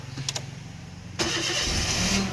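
A family car's engine starts up halfway through after a turning starter, catching into a steady, loud, close idle that holds until the end.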